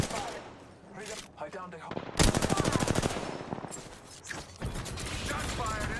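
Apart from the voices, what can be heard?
gunfire in the video game Apex Legends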